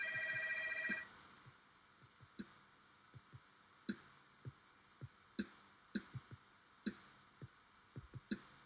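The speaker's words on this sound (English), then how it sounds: "It looks like my phone's ringing here" Room telephone ringing with a bright electronic trill that cuts off after a second, followed by a series of scattered sharp clicks and taps, faint and close, with no talk.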